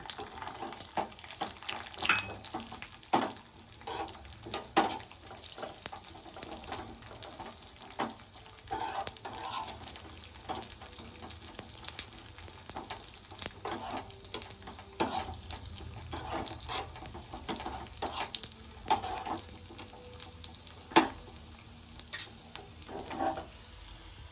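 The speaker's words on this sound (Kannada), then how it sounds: "ಗೋಡಂಬಿ ಮತ್ತು ದ್ರಾಕ್ಷಿ ರೋಸ್ಟ್ ಆದ್ಮೇಲೆ ಕೊನೆಗೆ ದ್ರಾಕ್ಷಿ ಹಾಕೊಳ್ಳೋಣ" Cashews and raisins roast in a pan for shavige payasa, giving a steady soft sizzle broken by stirring scrapes and clinks from a spoon, moderately close with no talking.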